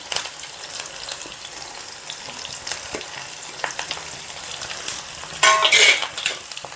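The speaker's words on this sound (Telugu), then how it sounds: "తాలింపులన్నీ బాగా వేగినాక" Curry leaves, dried red chillies and crushed garlic crackle and sizzle in hot oil, a steady busy frying hiss with a louder burst of spattering near the end; no voices.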